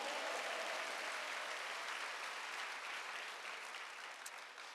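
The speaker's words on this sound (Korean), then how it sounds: "여러분을 반드시 천국까지 인도하신 주님께 뜨거운 박수를 올려드리겠습니다" A congregation at a spring mountain revival service at a Korean church breaks into steady, continuous applause, a soft, distant roar of many hands that slowly tapers toward the end.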